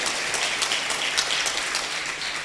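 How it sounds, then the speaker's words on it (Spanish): A congregation at a church leaders' seminar in 2015 bursts into loud, continuous applause, a dense rush of many hands clapping together without a break. "¿Cuántos le pueden dar un fuerte aplauso al Rey de la Gloria?"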